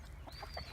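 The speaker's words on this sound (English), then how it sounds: "Good morning, chickens." Backyard chickens cluck softly in short, quick bursts, faint and close by, with a thin high whine running through the quiet background.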